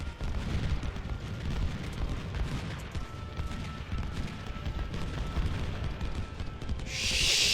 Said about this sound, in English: there's their goddamn artillery